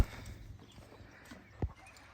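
A few hoof clops from a draft mare sound on hard ground against quiet rustling, with one louder, close knock near the end.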